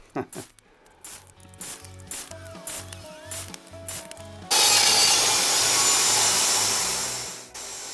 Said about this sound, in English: I use the table saw to do the rabbet cuts.